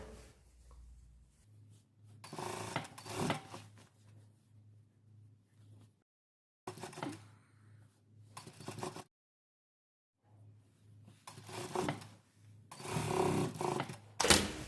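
A sewing machine stitches a sleeveless top in bursts of steady mechanical whirring, close and fairly quiet, with short pauses and two silent gaps between runs.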